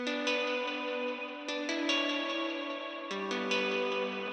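Dreamy trance synth chords drenched in heavy delay and reverb, bright layered tones shifting through a few sustained chord changes with echoing plucked attacks trailing off, no voices.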